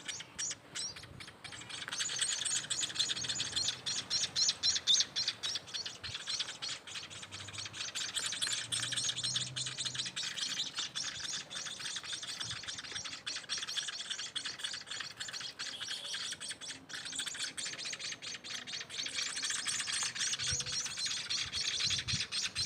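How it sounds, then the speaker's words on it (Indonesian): Emprit munia chick chirping insistently while fed with chopsticks, rapid high-pitched cheeps in dense continuous bursts, close and fairly loud, no talking. "sambil cerita-cerita sambil kita suapin burungnya"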